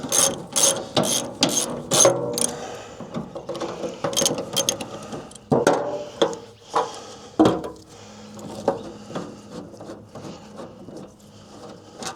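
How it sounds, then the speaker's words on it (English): A ratchet undoing bolts on a Ferguson TE20 tractor: rapid bursts of close mechanical clicking, then slower, spaced strokes with sharp metallic knocks, loud and with no voices. "Just undo the bolts first because the bonnet covers them up when it goes up."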